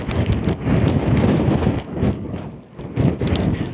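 Strong gusts buffet the microphone at an exposed wild campsite, loud rumbling blasts that swell and ease in waves, briefly dropping before surging again, with no voices.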